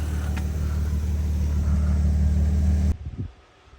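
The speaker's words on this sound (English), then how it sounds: "Yoy, our car's going away." A track-prepared car with a newly fitted oil cooler drives off from a workshop, its engine a loud steady rumble close by that cuts off abruptly near the end, leaving faint residual noise.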